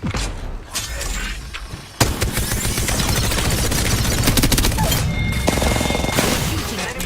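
Rapid video-game gunfire erupts after a quieter opening, with dense bursts of shots and impacts sustained loudly through the rest of the fight.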